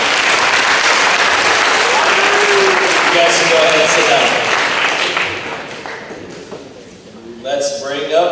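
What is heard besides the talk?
applause for football players at banquet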